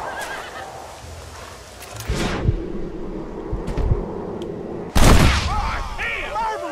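Gunshots in Red Dead Redemption, heard as two sharp loud cracks a few seconds apart amid a horse's whinny and clopping hooves. A voice speaks briefly near the end.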